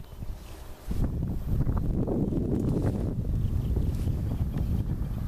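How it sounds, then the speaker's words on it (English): Wind blows steadily across an open hay field in July, a loud continuous rumbling gust buffeting close to the microphone. "And we're into the wind again"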